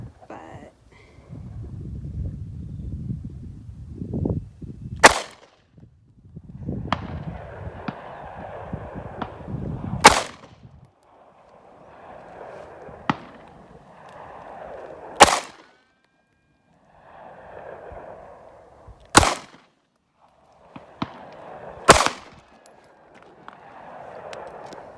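Sig Sauer P365 pistol fired at a range, five sharp loud shots spaced several seconds apart, each a sudden crack, with wind noise and low rumble between them.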